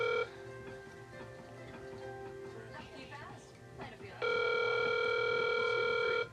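A telephone dial tone plays while a call is being placed. Talk and background sound come first, and then the steady loud tone runs alone for about two seconds before cutting off.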